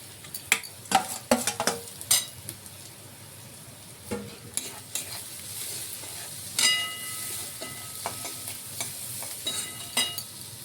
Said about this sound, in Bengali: এখানে আমরা কেটে রাখা, চপ করে রাখা এখানে গাজর আর এখানে আমরা বিনসগুলো দিয়ে দিলাম।